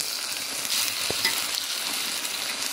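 Buffalo meat sizzles steadily while being sautéed and stirred in a hot pan, a constant close hiss with one soft low knock partway through and no voices.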